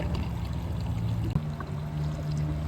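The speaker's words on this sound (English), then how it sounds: "Look at that pour right there, huh?" Liquid is poured steadily through a funnel in a short, continuous stream that briefly changes tone about halfway through. Nobody speaks.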